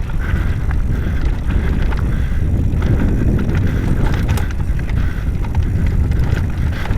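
An Intense Tazer MX Pro e-mountain bike with a Shimano EP8 motor rolls over a trail, giving a constant loud rumbling rattle mixed with wind buffeting on the microphone, steady throughout with no talking.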